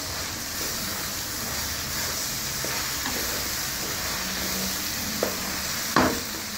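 Tomato and green chilli go into a pan of spicy okra and get stirred, giving a soft continuous sizzle with faint scraping strokes and a sharp clink of a utensil near the end.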